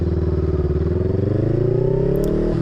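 A Honda Rebel 500, a 500cc six-speed motorcycle, rides along with its engine loud and close, a throbbing drone climbing steadily in pitch before a brief dip near the end, like a gear change.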